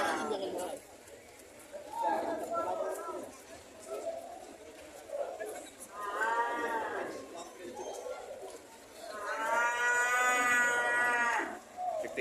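Water buffalo (carabao) moo at a livestock market, several long harmonic calls rising over steady crowd chatter and background talk, the loudest bellow arriving near the end.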